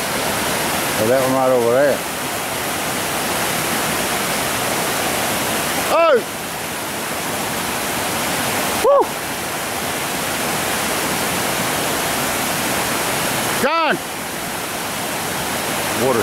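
Loud, steady roar of river water rushing over rapids at High Shoals, an old river crossing, close by and constant, with people calling out and shouting over the noise.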